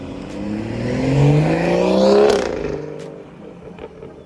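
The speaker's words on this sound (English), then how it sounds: "I'll throw in an exhaust clip because you really need to hear how great it sounds." BMW 440i with a B58 engine and dual resonator delete exhaust at about 100k miles, revving hard as the car builds speed and passes close by, then fading quickly away.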